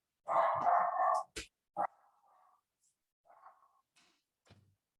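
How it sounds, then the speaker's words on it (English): A dog barks indoors behind a closed door, a sustained bark-like burst followed by a few shorter, quieter yelps and knocks spaced apart. "my dog's barking"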